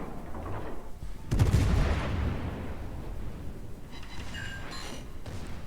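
A warship's heavy guns fire at cruisers in a naval battle game: one deep booming salvo bursts out, then rumbles away into a long fading roar, with lighter crackles later.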